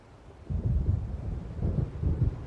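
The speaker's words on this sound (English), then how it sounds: "It seems there's a storm coming." Deep rolling thunder from an approaching storm in the video game Alan Wake Remastered, a low rumble swelling in two waves and sustained to the end, with no talk.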